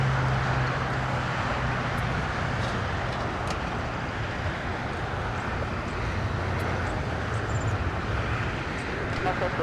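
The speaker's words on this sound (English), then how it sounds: "will be our next departure on the north side. So they are on the roll." An airliner rolls for takeoff from the north side runway at LAX, a loud, broad, continuous jet roar that holds steady throughout, with a voice speaking over it.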